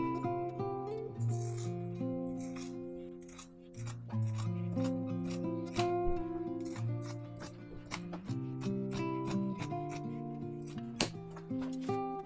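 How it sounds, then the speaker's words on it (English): Scissors snip through paper sewing pattern pieces for an apron in a series of short, crisp cuts over steady background music. "just need to cut these out now."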